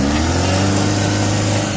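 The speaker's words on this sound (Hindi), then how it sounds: "कुछ देर कोशिश करने के बाद ये गाड़ी स्टार्ट हो गया" A stuck vehicle's engine runs loud and steady with a deep, even hum and no breaks, just after finally firing up at the Jayanti River crossing in Buxa Tiger Reserve.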